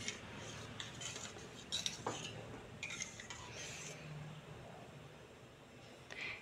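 Murrel fish curry being stirred in a pan, with steady scraping and clinking of a spoon against metal, close and moderately quiet.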